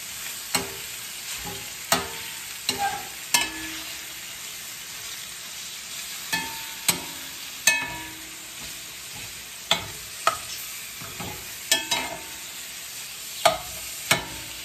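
Pieces of beef steak frying in a pan, a steady close sizzle broken by repeated sharp clinks and scrapes of a utensil stirring and turning the meat.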